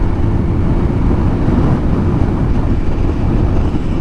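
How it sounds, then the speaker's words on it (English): A 2005 Suzuki GSX1300R Hayabusa on the road gives a loud, constant low exhaust rumble blended with heavy wind roar, steady throughout with no break. "This bike's got a nice exhaust, but it's not like blowing your eardrums out when you're going down the road"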